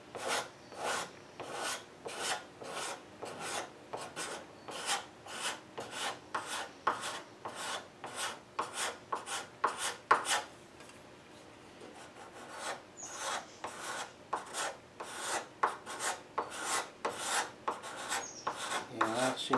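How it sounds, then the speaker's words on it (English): A sharpened scraper blade smooths file marks from carved wooden legs in repeated rhythmic strokes, each a short, close, raspy scrape, with a brief pause midway before the strokes resume. "I've just sharpened a scraper blade to take the file marks out."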